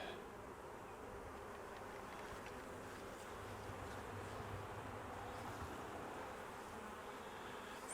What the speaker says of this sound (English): I'll get underneath and get an idea how many bees are in that